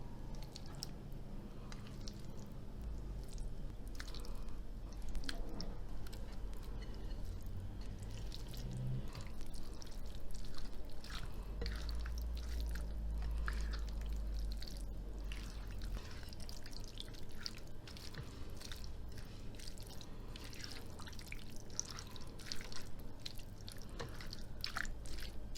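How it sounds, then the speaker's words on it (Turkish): Boiled cabbage goes slowly into a sauce for an Adana-style cabbage pickle, giving soft, wet squishing and dripping sounds that continue quietly at close range without speech. "Şimdi hazırladığım bu sosun içerisine haşladığım lahanaları yavaş yavaş ilave edeceğim."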